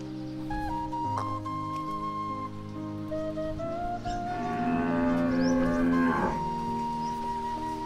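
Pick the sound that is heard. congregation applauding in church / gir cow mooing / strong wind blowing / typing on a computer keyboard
gir cow mooing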